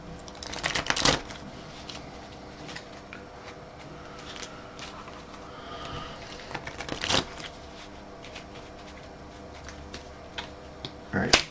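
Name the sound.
shuffling a deck of cards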